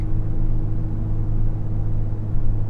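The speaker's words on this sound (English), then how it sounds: "Very good turbo noises this morning" Volkswagen Golf R, eighth generation, idles and cruises with a steady low turbocharged engine drone and a constant deep hum, no voices and no clear pops.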